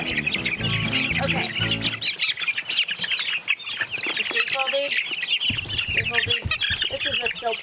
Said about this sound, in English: This is a silky. It's got fuzzy feet and they got a little pompadour on the top.